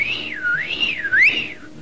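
A shrill whistle blown continuously, its pitch sliding smoothly up and down in slow waves, with a louder rise near the end.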